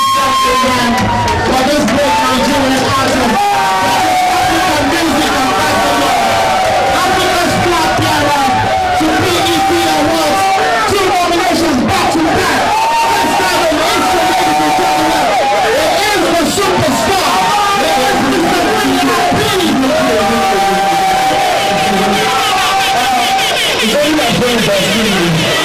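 A loud, dense crowd cheers and shouts at a VIP launch event, a sustained roar of voices with whoops and yells rising and falling across the whole stretch, with an amplified voice cutting through at times.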